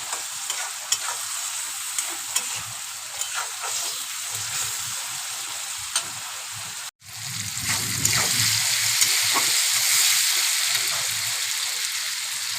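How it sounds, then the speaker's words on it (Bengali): Prawn and fig curry sautéing in a pan with chili powder and salt, a steady sizzle and frying hiss with scraping stirs, briefly cut off midway and then resuming louder and fuller. "স্বাদ মতো লবণ দেবো, ভালো করে এটাকে কষাবো।"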